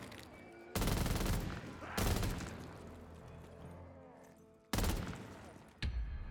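An MG34 machine gun in The Walking Dead zombies video game, firing in three loud close bursts of rapid gunfire separated by ringing decays, with a shorter fourth burst at the end.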